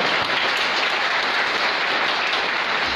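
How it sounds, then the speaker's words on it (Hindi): An audience at a homeopathic medical college foundation day celebration in Rajasthan claps loudly and continuously for three seconds, a thick, close wall of hand claps with no talking. "एक बार जोर से ताली हो जाएगा, जोर से।"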